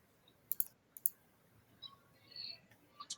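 A computer mouse gives several quiet, sharp clicks, a close pair and then scattered single ones, set against a faint room hush.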